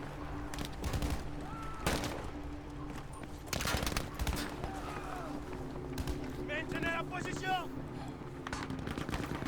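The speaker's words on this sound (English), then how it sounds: "There's a lot of gunfire coming." Rapid bursts of gunfire in Battlefield V crackle throughout, some near and some distant, with voices talking over the shooting.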